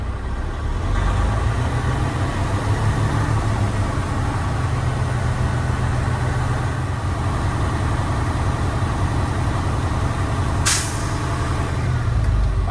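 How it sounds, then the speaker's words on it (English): A truck engine runs steadily at raised RPM, about 1200 to 1400, building air brake pressure toward cutout. The low, loud drone holds throughout with no talk, and a brief hiss of air near the end. "I'm now going to raise the engine to between 12 to 1400 RPM, bring the air pressure up between 120 to 140 PSI to check the cutout."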